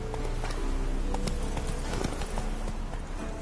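A horse in The Witcher gallops with rapid, continuous clip-clopping hoofbeats, loud and close throughout, with no talk over it.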